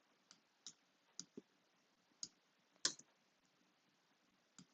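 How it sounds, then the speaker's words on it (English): The delete key on a computer keyboard is pressed repeatedly, giving about eight sharp, isolated clicks at an irregular pace, close and quiet against near silence. "I'm just hitting delete on my keyboard to get rid of these"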